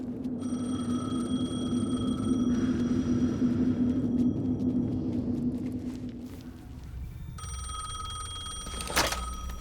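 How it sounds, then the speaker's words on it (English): A telephone rings repeatedly in the horror game Alan Wake 2, a steady electronic ring over a low ambient rumble, fading and then returning near the end with a sharp knock. "The phone again."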